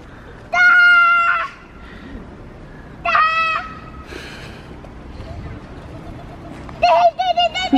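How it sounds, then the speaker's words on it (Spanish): A pigeon calls out in a park with ducks around, giving a few short, fairly loud bursts of cooing calls spread across the stretch while faint background noise carries between them. "Tienes una paloma detrás tuya, Óscar."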